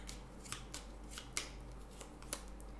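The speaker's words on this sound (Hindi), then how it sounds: "let's get a tarot card" Tarot cards handled during a Sagittarius July reading: soft, quiet papery clicks and swishes, a handful of brief separate card snaps spaced irregularly, close by with no talking.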